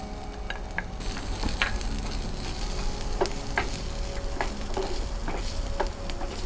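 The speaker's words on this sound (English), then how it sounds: "Stir and coat all of the ghee and spices onto the onions" Chopped onions stirred with ghee and spices in a hot pan, a loud close sizzle with repeated scraping and clicking strokes of a spoon against the pan, no talk.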